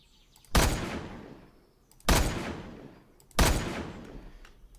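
Three sharp, loud gunshots from the video game Kaos Survival ring out, spaced about a second and a half apart, each trailing off in a long echo.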